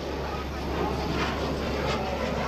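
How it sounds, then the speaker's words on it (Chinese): A J-10 fighter jet making a slow, low-speed flypast at an air show, a steady low engine whine and roar that swells slightly, with a commentator talking over it. "我们听到发动机的声音与和刚才有了非常大的区别，现在是一种很低的尖啸"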